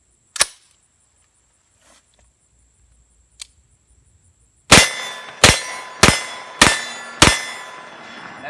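Five suppressed 9mm pistol shots ring out in a quick, evenly spaced series outdoors, each a sharp report followed by the clang of the bullet striking a steel target, with a few faint clicks and knocks before them.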